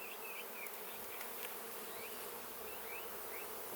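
Honeybees hum steadily around an open beehive frame during an inspection, a dense continuous buzz close up with occasional higher passes of individual bees, no talking.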